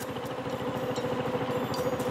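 A boat's outboard motor runs steadily and loud at close range, a continuous rough drone with a fast pulsing beat and no voices over it.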